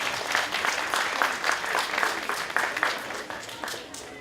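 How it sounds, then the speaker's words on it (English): Applause greets the president of a community charity association at its children's walk event, a steady crowd clapping that swells and fades over a few seconds with faint voices underneath. "Please give him a round of applause."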